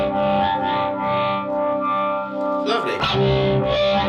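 Electric guitar runs through a univibe effect, giving a swirling pseudo-Leslie warble as sustained notes pulse and waver, then a fresh strum near the end, loud and close.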